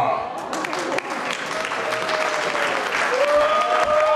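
A crowd claps steadily and densely to greet the district's best milker, and the applause stays loud and continuous throughout with a faint tone underneath.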